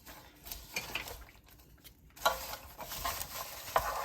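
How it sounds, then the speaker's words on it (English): Popcorn is stirred into sticky homemade caramel in a pan, heard as soft, rustling scrapes and light patter in irregular bursts, close by and fairly quiet, with no speech. "You have to mix it well with the caramel so it becomes caramel popcorn."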